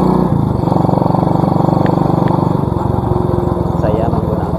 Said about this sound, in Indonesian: Saya menggunakan motor basicnya motor Prima ini